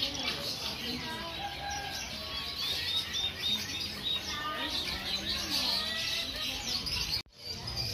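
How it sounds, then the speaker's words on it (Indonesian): Many small birds chirp and tweet in a busy, continuous chorus at a bird market in Depok, with faint crowd murmur underneath. "Ini kebanyakan burung-burung kecil, burung-burung lokal"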